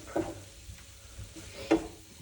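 Cheesesteak filling sizzling in a hot pan as cheese is stirred in, a low steady fry with two distinct scraping, clattering strokes of the spatula, close and without talk.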